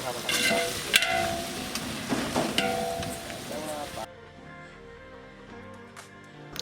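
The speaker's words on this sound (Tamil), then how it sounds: "அப்புறமா கொத்தமல்லி எல்லாம் அரைச்சி வச்சது அதையும் சேர்த்து நல்லா மிக்ஸ் பண்ணி விட்டாங்க" Ground coriander paste and green chillies are stirred in a hot pan for mutton dum biryani, giving a steady sizzle with scraping stirs and clinks, then a quieter simmer once the heat settles.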